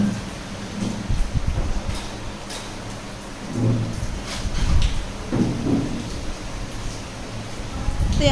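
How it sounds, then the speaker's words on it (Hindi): Heavy monsoon rain pours in a steady, dense hiss, with low rumbles of thunder rolling through and swelling louder in several waves. "तो यहाँ पे देखिए फिर से आ गई थी बहुत ही तेज़ वाली बारिश।"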